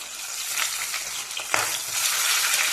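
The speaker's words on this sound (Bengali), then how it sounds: "এপাশ ওপাশ ভেজে নেব" Pabda fish fry in oil in a pan with an even, close hiss of sizzling, one sharp tap or flip midway and a slightly louder sizzle after it, with no voices.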